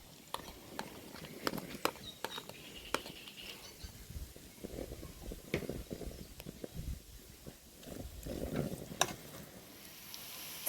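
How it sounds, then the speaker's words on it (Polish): Onion sautéing in a pan makes a soft, intermittent sizzle broken by frequent sharp clicks and scrapes of stirring, fairly quiet and close, with murmured talk over it. "I dajemy cebulkę i będziemy ją podsmażać"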